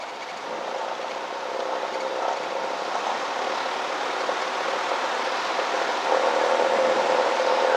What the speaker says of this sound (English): left hand on the yoke, and full throttle